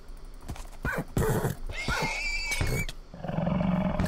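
A video-game horse whinnies loudly and its hooves clip-clop in a quick, uneven rhythm, with sharp game sound effects layered over it and no talking.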